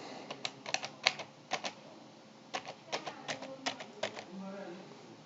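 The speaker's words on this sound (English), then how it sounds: "Once you type the password, click OK." A password being typed on a computer keyboard: irregular clusters of crisp key clicks in two bursts separated by a short pause, close and moderately quiet.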